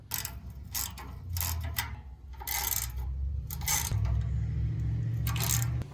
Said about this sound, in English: we're just going to take these 3 bolts off